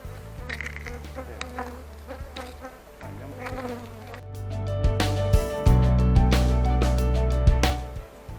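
Honeybees buzz densely around an open hive as a reinforcement frame is set in, a steady close swarm drone with a few louder passes and light knocks from handling.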